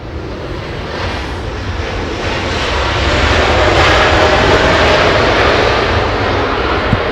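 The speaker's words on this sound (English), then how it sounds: "777-300." A Boeing 777-300 airliner from Taiwan at Los Angeles International Airport gives a loud, steady engine roar that swells and holds near its peak midway, with no talking.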